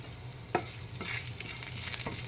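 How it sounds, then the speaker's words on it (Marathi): Cumin, mustard seeds and curry leaves crackle in hot oil in a pan, with a sharp pop near the start and a steady close sizzle, broken by a few more spits and stirring clicks. "तेल घातलेलं आहे ते गरम झालेलं आहे तर हे मी जिरे मोहरी फोडणीसाठी घे घेत आहे कढीपत्ता त्यात सोडते"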